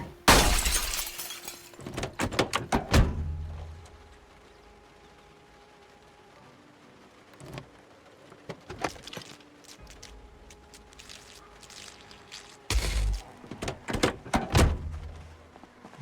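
Car window glass smashing in the zombie survival game Project Zomboid: loud bursts of shattering and breaking impacts at the start, scattered thuds and knocks in between, then another cluster of crashing glass toward the end; no voices.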